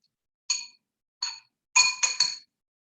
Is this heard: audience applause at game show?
no